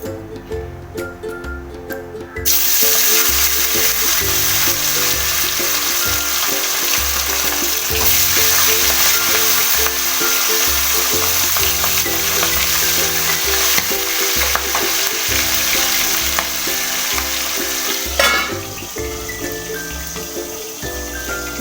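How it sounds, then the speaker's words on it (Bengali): Tilapia fish pieces fry in hot mustard oil, a loud, dense, crackling sizzle that bursts in after a quieter start and holds steady, popping throughout with no talking. "মাছ ভাজলে এইভাবে মাছের তেলগুলো ফুটে"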